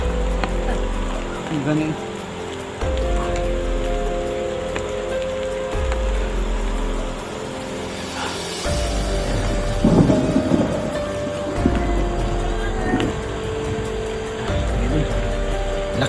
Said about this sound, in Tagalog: Lakas po ng ulan mga idol.